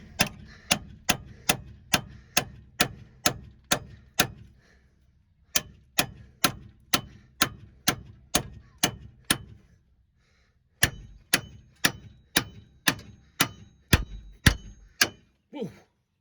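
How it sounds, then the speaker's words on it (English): Sharp metal hammer blows strike a tool wedged into the ball joint of a 1999 Chevrolet Suburban, landing in steady rapid bursts of about a dozen hits each with brief pauses between, loud and close. "start hammering again"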